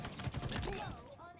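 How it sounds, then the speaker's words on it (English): A three-round burst rifle fires in the Halo Infinite video game: quick, close cracks packed tightly together, then a short fading tail. "Nothing satisfies like a 3-round burst."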